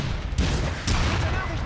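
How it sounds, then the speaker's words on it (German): Gunfire in the video game Aliens: Colonial Marines, two sharp shots over a loud, continuous rumbling game soundscape, with a voice talking underneath. "Drei Schüsse braucht er, glaube ich."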